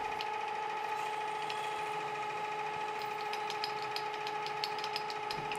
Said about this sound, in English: Tap drill for number